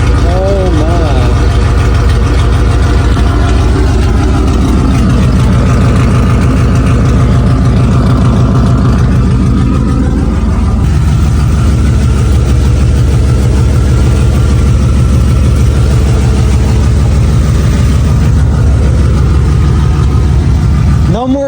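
Truck engine with a 3.5-inch polished straight pipe exhaust and no tip, a loud deep idling rumble close by, revving slightly at times, with someone talking over it.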